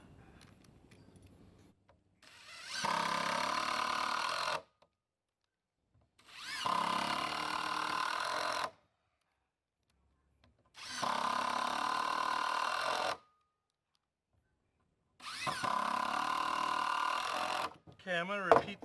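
A power drill drives screws into the wood of a raised garden bed in four separate bursts of about two seconds each, with quiet pauses and faint handling noise between them.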